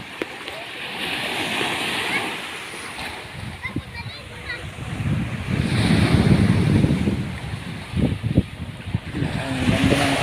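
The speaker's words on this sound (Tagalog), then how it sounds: "Ang ganda ng alo ng dagat." Ocean waves break and wash onto a white sand beach at Anda, Bohol, a rolling surf that swells and fades with heavy wind buffeting the microphone and a voice talking over it.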